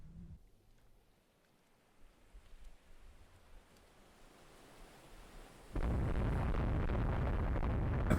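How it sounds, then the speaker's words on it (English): Coastal artillery batteries firing in the naval strategy game Rule the Waves 3, a low, distant rumble swelling into a loud, sustained roar of broadband noise in the final seconds. "Coastal batteries firing."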